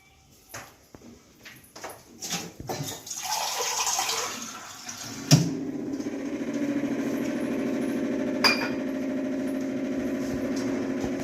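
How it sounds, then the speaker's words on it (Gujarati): Half a glass of water poured into a pan of ripe mango curry, starting with a few clatters and knocks before a steady bubbling sizzle rises as the water hits the hot pan, with a sharp clank midway. "એમાં આપણે અડધો ગ્લાસ પાણી એડ કરી દઈએ"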